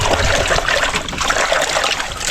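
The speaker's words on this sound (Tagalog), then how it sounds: "Hugasan lang natin yan kasi alikabok lang naman yung mga kajoks eh." Water trickles and splashes steadily while herbs are rinsed, a close, continuous running-water sound with no voices.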